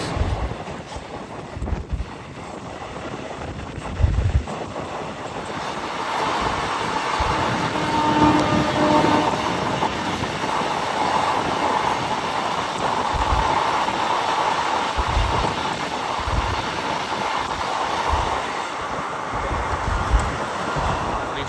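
The Rajkot–Bhuj daily special train rumbles along the track in a steady, loud rolling drone, with wind rushing past the microphone and faint rhythmic wheel clatter throughout.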